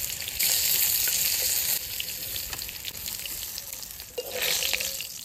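Small river fish fry in hot oil, giving a dense, bright, continuous sizzle that stays close and loud and swells again near the end.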